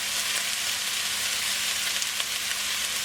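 Rice being stir-fried in a wok for fried rice, a steady broadband sizzle with faint scraping stirs throughout, close and fairly loud with no talking.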